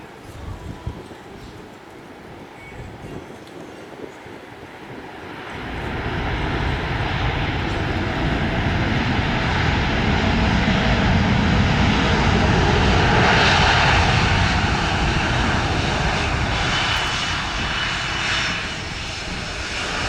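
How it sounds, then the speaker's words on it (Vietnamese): A Vietnam Airlines Boeing 787 Dreamliner lands on runway 25R at Tan Son Nhat airport, its jet engine roar swelling from a distant hiss to a loud broad rush that holds steady as it passes. "mọi người đang được xem pha hạ cánh của chiếc Boeing 787 này xuống đường băng 25 phải."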